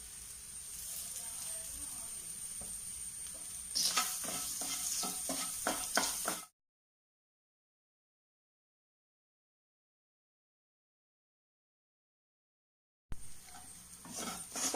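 Grated coconut paste with salt sautéed and stirred in a pan for a bitter gourd leaf thoran, giving a steady sizzle with scraping stirs that grow busier, then cut by a long stretch of silence before the sizzling resumes.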